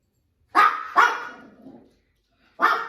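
A dog barks three times close by, two quick sharp barks followed by a longer trailing one and then a single final bark after a short pause, heard during an indoor gymnastics training session.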